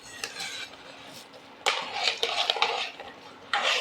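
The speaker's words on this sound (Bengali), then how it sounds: "এরপরে জিনিসটা মিশিয়ে নেওয়া হোক ভালো করে" Carrot halwa cooked in milk is stirred in a pot right after sugar goes in, with bursts of loud scraping and clattering against the metal between quieter pauses.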